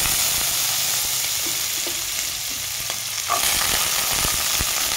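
Finely chopped carrots frying in a pan with panch phoron for a vegetable dal, a steady loud close sizzle with occasional stirring scrapes and no talking.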